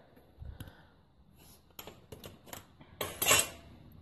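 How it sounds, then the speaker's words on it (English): A Tupperware can opener works around a tin, giving faint metallic clicks and turning clatters that build to a sharper scraping burst near the end, close and quiet. "It opens up the tin"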